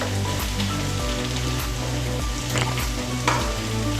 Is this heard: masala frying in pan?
yes